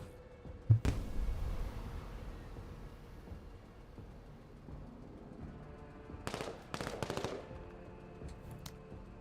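Autocannon fire in a combat video game: a sharp loud shot, then two short bursts of rapid rounds that sound farther off, set against quiet background ambience.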